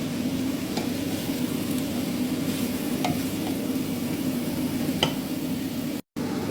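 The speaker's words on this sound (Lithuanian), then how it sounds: "Pjaustau kopūstus ir dedu į daržovės taip pat kepti." Chopped cabbage and other vegetables fry in a pot with a steady, close sizzle, punctuated by a few light clinks and scrapes as they are stirred.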